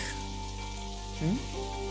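Rain falls in the Necrobarista video game as a soft, steady hiss under a sustained musical drone, with a brief vocal sound partway through.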